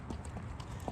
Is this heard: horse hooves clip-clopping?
yes